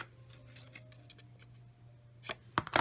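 Scissors cutting a paper tab off a photo and memory journal, a few soft snips and crisp paper crunches near the end, close and quiet over a low steady hum.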